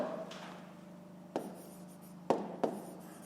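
A pen writing on paper during a fifth-grade maths exercise: soft scratching strokes broken by a few sharp taps, faint and close, with no talk.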